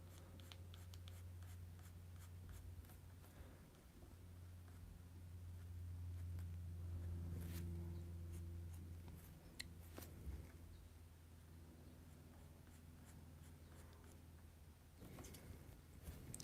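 A pen drawing thick, bold contour lines over pencil sketch lines on a Post-it note, giving a quiet, close scratchy stroking that continues through with soft shifts and handling noise.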